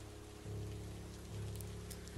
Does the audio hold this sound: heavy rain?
yes